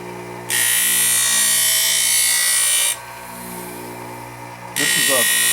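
A skate sharpening machine grinds a stainless steel skate blade with a loud, high, steady whine in two long bursts, a quieter motor hum between them, and brief speech over the start of the second burst.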